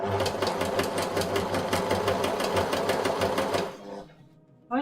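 A sewing machine stitching fabric for a waistcoat, running in a fast, even mechanical chatter for nearly four seconds before slowing and stopping, followed by a brief click.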